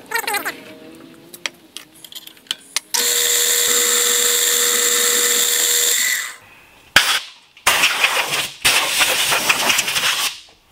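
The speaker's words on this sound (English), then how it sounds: "So I'm going to go ahead and drill the hole" A power drill whines steadily for several seconds after a few short clicks and bursts, then stops and restarts in uneven, loud runs while drilling a hole for a propane burner.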